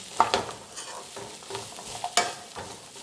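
Field beans and chickpeas frying in a pan for a curry, with a soft crackling sizzle and a few close clicks and scrapes from stirring.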